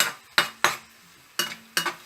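Bottle gourd (lauki) being stirred in a pan, with four sharp metallic spoon scrapes and clinks against the pan at uneven intervals over a faint background hiss.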